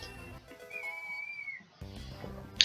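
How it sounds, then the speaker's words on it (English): A water bottle gives off a thin, faint whistle that rises and wavers for about a second over soft background music, with no talk. "you can hear the whistle from my water bottle"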